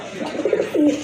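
A caged pigeon at a pigeon farm gives a short, close, throaty coo, rising and falling, with little else heard.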